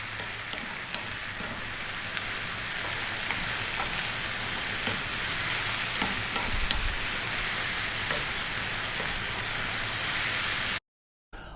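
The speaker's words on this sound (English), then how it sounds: "We're going to be stirring fairly often now." Italian garlic tomato chicken stew bubbles and sizzles steadily over medium heat, with occasional spoon scrapes and stirs, then cuts off abruptly just before the end.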